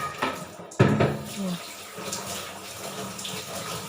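Tap water runs into a steel kitchen sink during washing, a steady splashing flow that carries on throughout, with a sharp clatter near the start and faint talk in the background.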